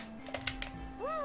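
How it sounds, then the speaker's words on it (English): A pet cat yowls from behind a closed door, one short rising cry that swells at the end of a brief stretch of quiet clicking, with no voices. "Sorry about the cat. She's on the other side of a door, and she's still screaming."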